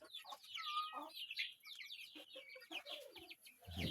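Naked-neck chickens and their chicks cluck and peep in a busy, continuous chorus close by. High chirps overlap lower clucks throughout.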